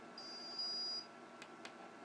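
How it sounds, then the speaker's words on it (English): An electronic speed controller driven from an STK600 board gives a thin, steady high-pitched electronic beep lasting under a second, followed by two faint short clicks against a low background hum. "There's the beep."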